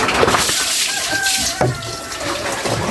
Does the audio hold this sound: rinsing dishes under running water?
yes